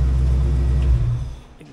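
A 1966 car idles with a loud, close, deep rumble that swells briefly before the ignition is cut, and the engine winds down and fades in under two seconds.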